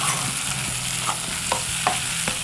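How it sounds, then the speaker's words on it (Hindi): Boiled, salted chickpeas fry with onions in a pan, giving a steady sizzle and crackle with scattered stirring scrapes and clicks of a utensil against the pan, close and continuous. "ये इस तरह से आपने चनों को भी फ्राई करना है।"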